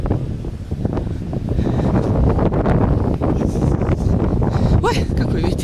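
Heavy gusting wind on a Florida beach by the sea rumbles against the microphone throughout, loud and close, with a faint voice surfacing near the end.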